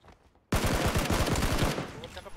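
Gunfire in the video game PUBG breaks out suddenly, a rapid burst of loud, close automatic shots in a tight rhythm that lasts about a second and then trails off into faint echoes.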